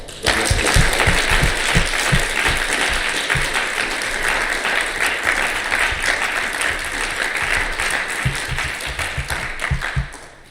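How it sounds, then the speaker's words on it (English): Sustained audience applause at a quiz bowl finals tournament, a dense steady roar of many hands clapping for the competitors and tapering off at the end, with low thumps in the first seconds. "I wonder if we can give our competitors one more round of applause."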